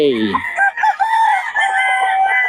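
Roosters crow in a drawn-out call with clucking around it, loud and close among a chicken seller's birds, and nobody talks.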